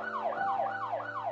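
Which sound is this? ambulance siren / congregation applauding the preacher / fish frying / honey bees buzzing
ambulance siren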